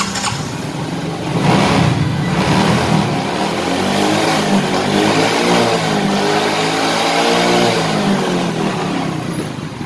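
Yamaha Mio J scooter with a faulty idle, its small engine idling and then revving up and easing off in swells, close and steady for about ten seconds with no speech.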